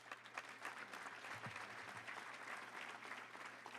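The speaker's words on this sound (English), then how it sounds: "Give each of them a round of applause" A luncheon audience at a touchdown club meeting applauds to welcome a speaker, a steady, dense clapping that fills the whole stretch at moderate volume with no talk over it.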